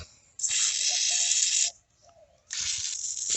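Two bursts of WD-40 aerosol spray hiss onto a Honda GCV 160 engine part, the first lasting over a second and the second starting after a short pause, both loud and close with a faint background hum.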